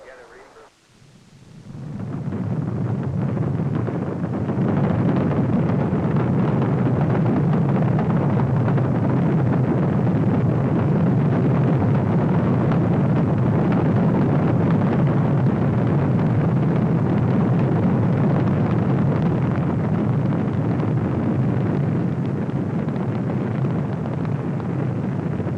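An Apollo 16 Saturn V rocket lifts off with a massive, sustained roaring rumble that swells within the first seconds and then holds loud and dense, crackling and buffeting for the whole stretch.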